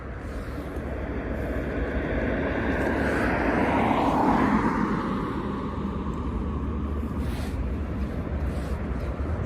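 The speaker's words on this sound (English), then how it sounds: "So I've still got eyes on the drone" A drone flies overhead during a police encounter in the UK, its steady broadband whir swelling to a peak midway as it passes close, then easing off but staying audible throughout, with no talking.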